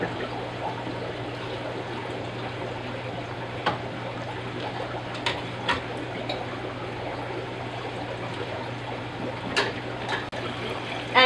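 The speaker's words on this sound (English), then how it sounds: "I'll start my siphon." A standard aquarium gravel vacuum siphons water from a tank with a thin substrate layer, giving a steady trickling flow with a few faint clicks and taps.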